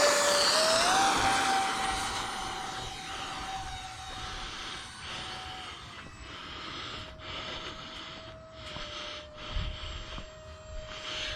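A small E-flite Habu 50mm electric ducted-fan RC jet whines overhead, its high whistling tone sweeping down in pitch as it passes and fades into a fainter distant hum.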